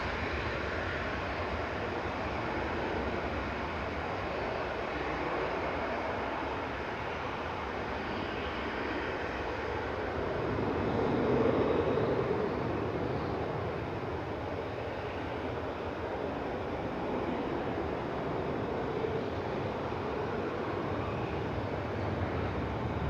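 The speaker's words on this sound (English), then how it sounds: "The EasyJet that's been waiting on Victor Charlie is now lining up." EasyJet airliner at Manchester Airport lining up on the runway, its jet engines a steady broad roar heard from a distance that swells slightly midway and holds throughout.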